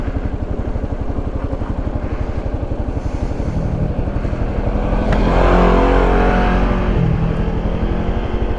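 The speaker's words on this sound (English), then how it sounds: "Oh, side by side coming up front." A red CF Moto side-by-side UTV drives past on the road with a loud, close engine drone that swells as it nears and passes. A motorcycle idle rumbles steadily underneath.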